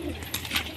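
Domestic pigeons coo briefly at close range in the evening, a soft murmuring call lasting under a second with a slight swell near its end, no talking over it.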